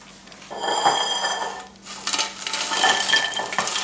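Crisp air-fried chips from a Philips XXL Premium Airfryer tipped into a bowl, a close rattling clatter of pieces with a clink of utensils against the dish, preceded by a brief quiet moment.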